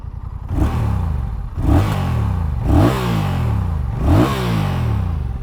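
A 2024 Honda Rebel 1100 cruiser engine revs four times in steady succession, each blip rising and falling over a deep, grunty idle, loud and close with no voices.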